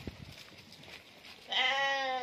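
A single loud, close sheep bleat rings out near the end after a quieter stretch of faint background noise, at a sheep market in Mit Ghamr, Dakahlia, Egypt.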